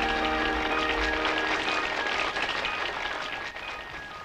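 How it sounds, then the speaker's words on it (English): Applause greets Howard Wood on a Christian television broadcast, a thick, continuous roar of crowd clapping at steady loudness, with a faint tonal hum running beneath it. "applause from Howard Wood"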